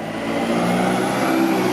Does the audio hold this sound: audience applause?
no